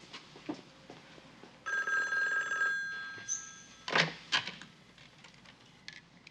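An indoor telephone rings once with a trilling electronic bell, moderately loud, amid soft clicks and knocks of handling, with faint background activity.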